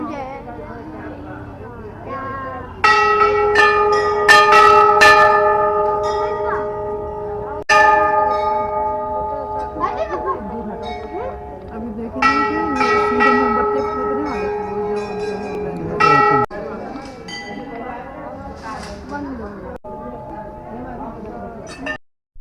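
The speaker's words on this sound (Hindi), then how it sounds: "ये देखो कितनी छोटी घंटी है।" Small temple bell rung repeatedly in bursts during worship, bright ringing tones that linger and decay, with people talking and background noise between ringings.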